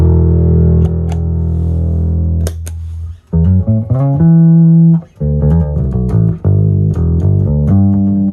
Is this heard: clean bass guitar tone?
yes